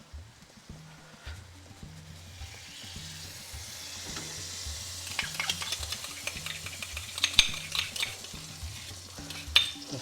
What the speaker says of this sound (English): And now we're going to throw in the yoghurt.